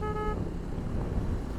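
An aftermarket horn on a KTM ADV 390 motorcycle gives one short, bright toot, then drops away into steady road and engine rumble during a ride.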